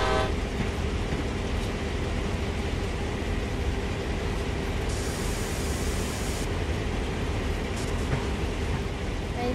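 An Amtrak train in Train Sim World 2018 rolls along with a steady, dense rumble of wheels and engine noise filling the whole stretch, with a brief brighter hiss midway and no talk.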